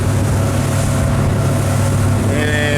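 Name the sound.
inflatable motorboat cruising at about 30 knots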